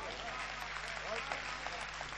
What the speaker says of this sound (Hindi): कविता सुने और तालियां बजती रहेंगी बीच बीच में।